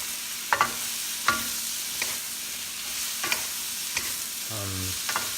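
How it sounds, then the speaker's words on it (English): Vegetables stir-fried in a hot pan for sweet and sour fish: a steady sizzle under repeated scraping strokes of a utensil, close and moderately loud, with no talk. "We'll mix them together. Just stir fry them."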